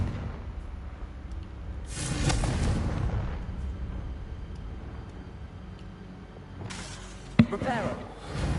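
A Confringo blasting spell in Hogwarts Legacy bursts with a loud whooshing roar, followed a few seconds later by another rumbling blast and a sharp crack, heard without talk.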